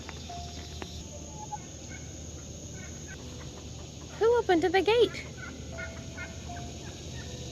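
Chickens loose in a home garden let out a short burst of warbling clucks partway through, over a quiet outdoor background. A voice speaks briefly nearby.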